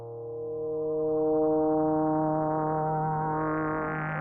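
Reversed eerie synth tone from a free FL Studio plugin, stacked sustained harmonics swelling in volume and wavering, with the upper partials slowly rising and brightening, alone and without talk.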